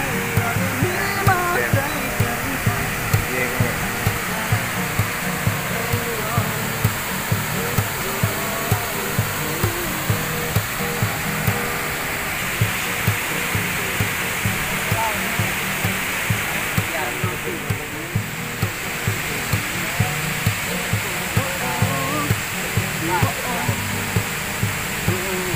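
A waterfall rushes loudly and continuously at close range, a dense roar of falling water with faint voices underneath it.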